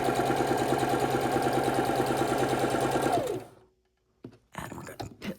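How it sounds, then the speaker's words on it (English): A sewing machine stitches across the corner of quilt fabric in a fast, steady mechanical chatter for about three seconds, then stops abruptly, leaving near silence before a few faint handling sounds. "And we're going to sew across."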